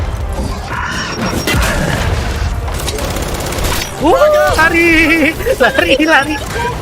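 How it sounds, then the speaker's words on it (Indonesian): A frag grenade blasts in the Gears 5 co-op shooter, a heavy boom amid gunfire and mechanical clatter, loud and close, while players talk excitedly and game voices break in over the chaos. "Astaga, ngelempar bom dia ke sana"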